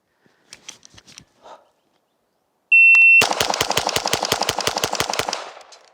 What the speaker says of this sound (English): if I just want to mag dump into the berm here for a second